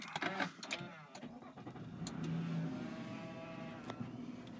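A 2008 Nissan Murano engine starting: a brief cranking whir, then the engine catches and settles into a steady, fairly quiet idle heard from close by.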